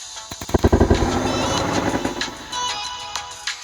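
A large homemade fireball launcher fires outdoors: a rapid burst of sharp, loud cracks and pops followed by a sustained rushing roar that fades with a few scattered pops.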